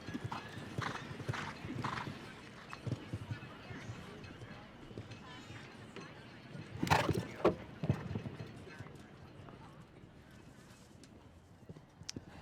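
Horse's hooves thud and clip-clop across a show jumping course at the AIG Million, with a louder cluster of strikes and a possible rail knock midway, while a commentator talks over them.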